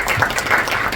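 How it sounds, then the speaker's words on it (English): Short burst of applause from a classroom audience after a student's performance in a school play about the American Revolution, a dense patter of many hands clapping for about a second, close and moderately loud. "Give her a round of applause."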